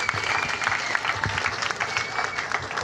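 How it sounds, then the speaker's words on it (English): Audience applause at a pre-race gathering for a charity fun run and walk, a dense steady clatter of many hands clapping throughout, with faint crowd murmur underneath. "A warm applause for Mayor."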